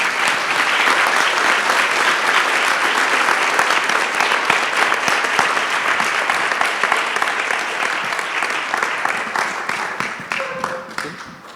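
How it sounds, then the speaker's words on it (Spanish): Sustained applause from an audience at a panel discussion on autism in Buenos Aires, dense and loud for about ten seconds before thinning out toward the end. "con un fuerte aplauso, vamos a darle el paso a ustedes"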